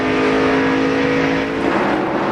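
NASCAR Busch Series stock cars racing at Rockingham in 2004 roar in a steady, loud engine drone with a sustained pitch, the field running close together with a slight swell as cars pass.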